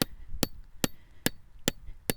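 Sharp hammer blows ring out in a front yard, six strikes at a steady pace of roughly one every 0.4 seconds, loud and close with no talking.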